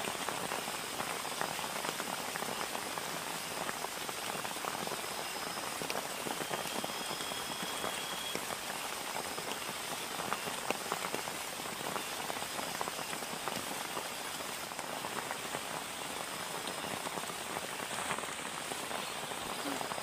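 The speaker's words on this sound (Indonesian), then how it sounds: "Hujan nih. Sedikit pak." Steady heavy rain falling at a forest campsite, a dense continuous patter of drops on surfaces all around, fairly close, with no pauses throughout.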